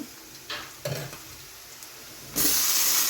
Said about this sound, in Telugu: కొద్దిగా సాల్ట్ వేసి ఉల్లిపాయలు ఫ్రై అయ్యాక